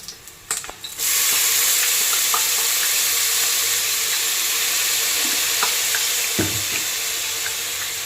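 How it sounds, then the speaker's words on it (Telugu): Spices for Sunday mutton keema biryani sizzle steadily in hot oil in a home kitchen with mint and coriander just added, a loud continuous frying hiss after a few clatters at the start, with occasional small knocks and stirring sounds. "మసాలాలన్నీ బాగా వేగిపోయి ఇప్పుడు పుదీనా, కొత్తిమీర వేసుకోవాలి."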